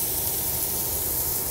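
Steaks sizzle in hot, nearly smoking beef tallow in a pan, giving a steady, dense hiss that stays at the same level throughout without any voices.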